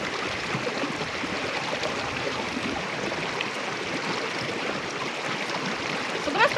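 A wild river flows steadily nearby, a soft, even wash of running water that stays at a constant moderate level throughout with no voices.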